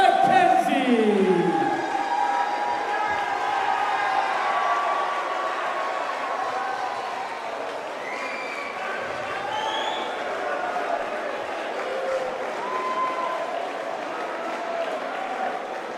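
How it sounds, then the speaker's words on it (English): Crowd at a featherweight fight event cheering and applauding a fighter, a dense sustained roar of claps and shouts with whistles rising over it, steady and loud throughout. "please bring on the applause for Lewis McKenzie."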